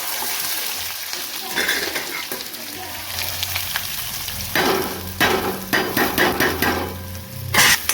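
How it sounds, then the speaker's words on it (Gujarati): Garlic and ginger sizzle and fry in oil in a pan with salt and cumin, a steady crackling hiss broken by louder stirring scrapes and clatters near the end. "થોડી તેલમાં શેકવા દઈએ બધું"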